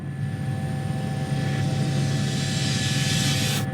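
Helicopter flying through gusty winds over Alaskan mountains, heard from inside the cabin as a loud, steady rotor and engine drone with a constant low thrum and whine, no voices.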